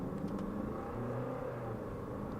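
Jeep Commander Overland diesel 4x4 in automatic mode pulling away hard from a standstill, a steady loud engine rumble and drone building under acceleration, continuous and close, with no talking.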